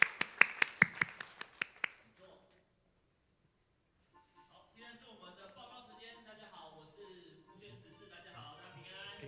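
A worship congregation claps hands in a quick, even burst of about a dozen sharp claps, then falls silent before a voice begins speaking over a quiet room.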